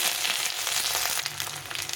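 Chopped ginger and asafoetida frying in oil, a continuous close crackling sizzle with small spits and pops, heard alone for about two seconds.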